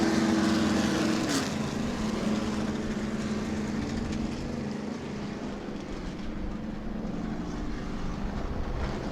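Several race cars rev their engines together as a race starts at New Smyrna Speedway, a loud sustained drone with rising pitch that holds steady without talk.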